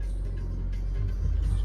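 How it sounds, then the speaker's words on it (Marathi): A car's engine rumbles low and steady at close range as the vehicle is backed up in reverse, with no voices over it. "चला जस्ट गाडी घेऊ रिवर्सला"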